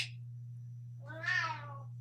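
A single drawn-out, plaintive cat meow rises and falls over a low steady electrical hum, close and clear with no talking.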